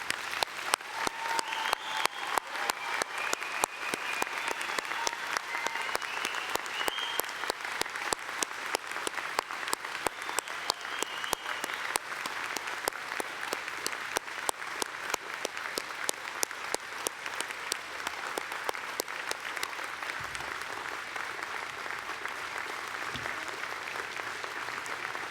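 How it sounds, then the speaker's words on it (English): Sustained audience applause for graduates at a university arts, social sciences and humanities graduation ceremony: dense, steady clapping from a large crowd, lasting the whole stretch and thinning slightly near the end. "we'll give our graduates a great round of applause"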